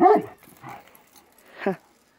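A few short dog barks or yips, close by behind a fence at an animal yard, separated by brief pauses, with faint background noise between them.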